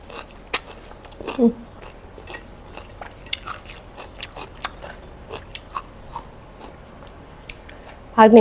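Someone eats spicy bamboo shoot soup, with scattered close crunchy bites and chewing clicks spread over several seconds, broken by a few louder mouth sounds and bursts of speech near the start and end.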